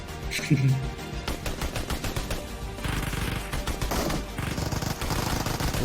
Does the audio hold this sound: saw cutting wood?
no